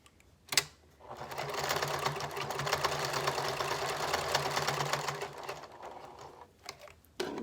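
Sewing machine stitching a fabric mask with ties, running steadily for several seconds after a sharp click, then stopping with a few small mechanical taps; close and fairly loud.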